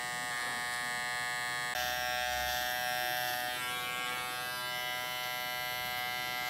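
An electric hair trimmer with its blade opened up cuts against the grain during a curly haircut, a continuous close buzzing hum that shifts slightly in tone as it moves through the hair.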